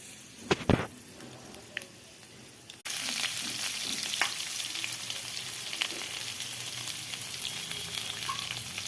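Bay leaf and dry red chili dropped into hot oil with panch phoron for a Bengali yardlong-bean curry, a few soft clinks and stirring sounds, then a sudden loud, steady sizzle that holds to the end.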